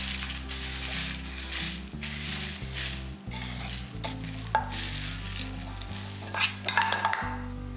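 Black urad dal and sesame seeds sizzle and fry steadily in a hot pan for a spice powder, with occasional stirring and scraping, loud and close, with no talking.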